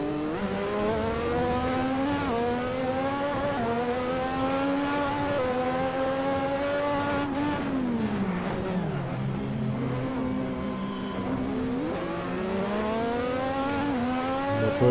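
In the Assetto Corsa racing game, a 1986 turbo Formula 1 car at Imola screams loudly and continuously through the gears, pitch rising with each upshift and dipping under braking for corners before accelerating again, with no talking.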